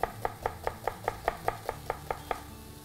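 A knife chops onion finely on a board, about a dozen crisp, evenly spaced strikes in a steady rhythm, close and clear with no voices.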